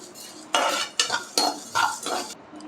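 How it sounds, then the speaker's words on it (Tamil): Coriander seeds, fennel and cumin dry-roast in a pan over medium heat. Bursts of rattling, scraping stirring come about every half second and are close and fairly loud, with a faint crackle between them. "மல்லி சோம்பு சீரகத்தை சேர்த்துக்கலாம் அடுப்பை மீடியம் ஃப்ளேமில் வச்சுட்டு வறுத்துக்கோங்க"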